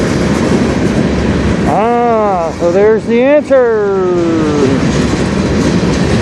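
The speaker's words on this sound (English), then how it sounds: "So it's a really small empty train then, or are those flat cars?" A small freight train of empty flat cars rolls past at night, a continuous rumbling rush with a horn's rising, wavering tones sounding briefly in the middle, while someone speaks over it.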